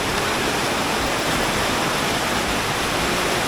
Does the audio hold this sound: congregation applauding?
no